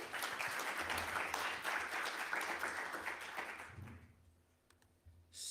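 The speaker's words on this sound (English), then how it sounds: "A big round of applause for Timothy." Audience applause for a conference talk presenter fills the room loud and dense, then thins out and fades to scattered claps near the end.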